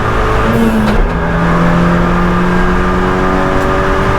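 A car accelerates hard around the Nürburgring, its engine note climbing and holding strong from inside the cabin, with a brief gear-change dip near the start.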